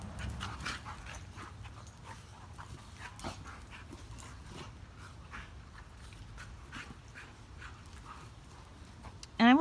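A Dogo Argentino puppy pants and sniffs in quick, uneven bursts at close range, with faint whimpers and scuffling from play and soft background voices.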